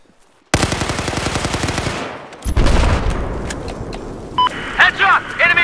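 In the Battlefield 4 video game, loud, rapid machine gun fire rattles continuously, breaks off briefly, then resumes in heavy bursts. Game voice callouts and radio chatter come in near the end.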